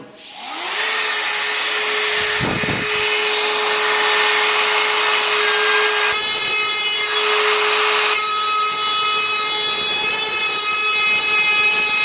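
DeWalt DCE555 cordless multi-cutter running along a ceiling panel, a loud continuous high whine that spins up quickly and holds steady for several seconds with a brief dip as the cut continues, alone without talk.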